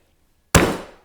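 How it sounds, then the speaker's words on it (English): A stout water glass slams down on garlic cloves with one sharp, loud bang that rings briefly and fades within half a second, preceded by near silence. "Another way to smash the cloves to make them easy to peel is to take a stout water glass and go bang"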